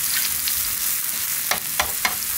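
Enoki mushrooms frying in a pan with a little cooking oil, a steady soft sizzle with a few sharper crackles and stirring ticks near the end, close and without talk.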